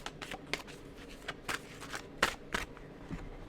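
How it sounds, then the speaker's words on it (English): Soft riffling and shuffling of tarot cards in quick irregular bursts, fairly quiet, with brief sharper flicks; no talking. "I don't want this to be too loud while I shuffle"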